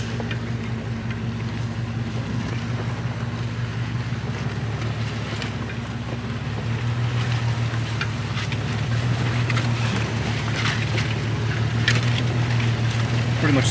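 A Jeep drives a muddy trail in Uwharrie, its engine a steady low drone that swells slightly in the second half, with scattered clicks and knocks from the terrain throughout.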